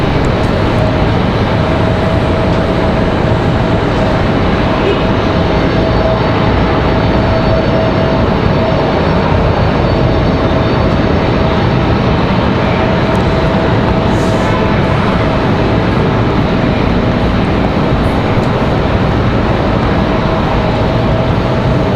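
A Boeing 757 airliner arriving from Atlanta at Raleigh-Durham airport in strong wind makes a loud, steady engine roar with a faint whine that holds for the whole stretch without a break.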